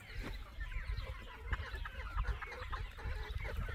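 Several chickens cluck in quick, overlapping bursts nearby, a busy, scratchy farmyard chatter without any voices.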